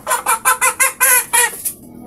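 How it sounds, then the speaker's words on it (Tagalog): A chicken clucks in a quick run of about eight short, bright calls, close by and loud, then falls quiet. "Manok lang anak yun."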